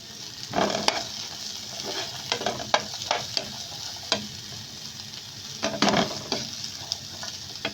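Vegetables for fried rice fry and get stirred in a pan over medium heat, with a steady close sizzle and repeated utensil scrapes and knocks; no one speaks.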